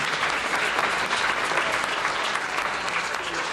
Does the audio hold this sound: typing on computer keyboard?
no